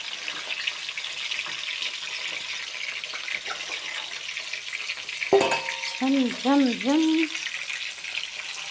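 Washed cucumber and dried fish frying in hot oil, with a steady broad sizzle throughout and a sharp burst of crackling and bubbling near the end as the pieces hit the oil; no one speaks.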